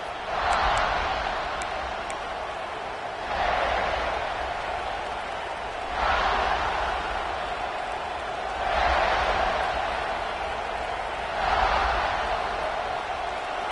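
Stadium crowd at a college football game, the Gamecocks kicking off: a broad roar of cheering that rises in repeated surges about every three seconds, steady and loud throughout.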